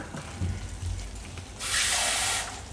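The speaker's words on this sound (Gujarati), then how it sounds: "થોડુંક પાણી નાખશું આપણે," Low clatter and a short cooking sizzle, then a bright rushing hiss of water poured into a hot pan of banana curry for about a second.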